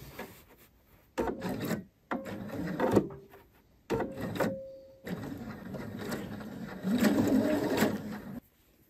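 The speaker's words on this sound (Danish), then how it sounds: "nu kører jeg her ned i spidsen, og det er simpelthen bare en stikning for at holde trekanten helt sikker på plads" A sewing machine stitches a V insert at a neckline in bursts of rapid whirring, starting and stopping several times with short pauses between runs.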